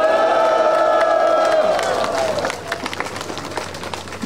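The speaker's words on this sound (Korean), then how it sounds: "여기 계신 여러분의 모든 뜨거운 함성과 힘찬 박수 부탁드리겠습니다" Crowd of residents shouting and cheering at an outdoor rally for the Yeongdong World Gugak Expo bid, loud and sustained with a tonal chant at first, breaking into scattered whoops, claps and voices.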